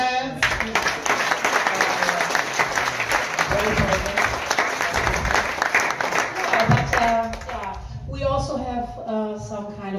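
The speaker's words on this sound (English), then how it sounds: "Clap your hands!" Audience applause at a Berlin community meetup: sustained, lively clapping from a room full of people for about eight seconds, fading as a speaker begins talking over the tail end.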